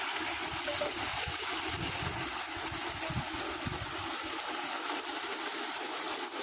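Steady broadband rush of running water while chicken is washed for biryani at an outdoor garden well, continuous and fairly loud with no talk.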